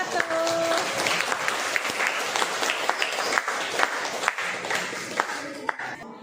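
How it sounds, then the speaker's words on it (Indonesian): Classroom applause from students clapping for a group after its presentation, steady moderate clapping lasting several seconds, with some voices under it. "Kasih tepuk tangan untuk kelompok 1."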